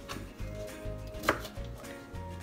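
Steamed sweet potatoes chopped with a chef knife on a board, a quick steady rhythm of soft, close thuds with one sharper knock and no talking.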